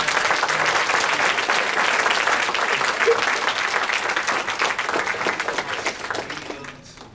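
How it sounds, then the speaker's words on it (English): A homecoming panel audience at SSU breaks into broad, continuous hand clapping that holds steady for several seconds, then fades out at the end. "can I get a whole hand clap for all of our"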